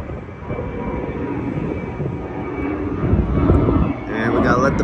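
A broad airplane engine roar drones steadily overhead, swelling louder toward the end, with a voice talking faintly underneath.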